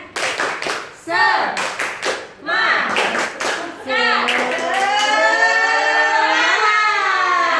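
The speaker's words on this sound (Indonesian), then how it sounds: "Sekali lagi tepuk semangat." A group of teachers at a school gathering performs the rhythmic tepuk semangat clapping routine, with sharp, patterned bursts of clapping near the mic that alternate with loud chanting voices.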